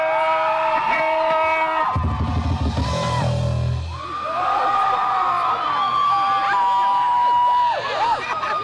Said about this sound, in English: I think the ladies are doing all the screaming tonight.